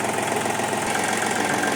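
A small three-cylinder diesel engine of an Iseki TU-225 tractor idles steadily nearby, a low, even knocking rumble with no voices.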